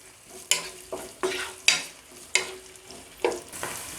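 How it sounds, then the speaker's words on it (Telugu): Onions for gongura chicken are stirred in a frying pan, giving repeated scraping strokes about every half second over a faint sizzle, with no voices. "అండ్ అలాగే ఉల్లిపాయ వేసుకున్న తర్వాత బాగా కలుపుకోవాలి."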